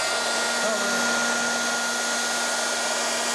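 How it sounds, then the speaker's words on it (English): A Makita cordless heat gun warms the adhesive film on the back of a carbon fiber style fuel door cover for a Toyota RAV, giving a steady, loud blowing hum with a faint whine that runs unbroken throughout. "now we'll use this Makita wireless heat gun to warm up the film on the back of the cover"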